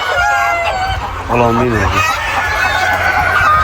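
Andijan black chickens, seven-month-old birds kept in a flock, cluck and let out a crow in the middle, close and clear, while someone speaks briefly over the birds.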